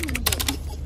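Rapid taps of thumbs typing a text message on a phone inside a parked car, a quick burst of close, light clicks with no talking.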